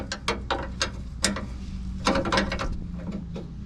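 A hand ratchet clicks in quick bursts, tightening bolts on a Nissan Xterra differential during a repair, with rapid pawl clicks in short runs, close and clear, and no talk.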